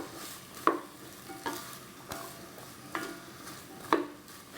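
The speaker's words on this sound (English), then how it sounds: "Now we're gonna add our onions and our peppers." Onions and peppers frying in warm oil in a pan give a steady soft sizzle, broken by a few sharp stirring scrapes and clacks of a utensil against the pan, close up with no talking.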